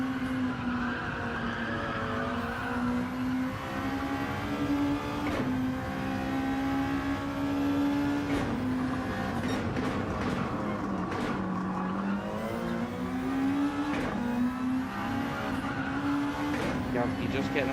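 Onboard engine sound from GR2 race cars in a racing video game at Circuit de Catalunya: a continuous, loud engine drone with repeated tire squeal and skidding through corners, while a commentator talks over it throughout.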